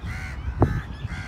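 Crows cawing in Riyam Park, with one short, fairly loud caw standing out at the midpoint over a low outdoor background hum.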